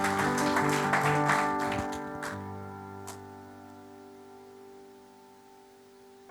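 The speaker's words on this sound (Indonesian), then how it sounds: "Berikan tepuk tangan bagi Tuhan Yesus." A church congregation claps briefly over sustained keyboard chords during a worship service; the clapping lasts about two seconds and then fades, leaving the held music ringing on alone.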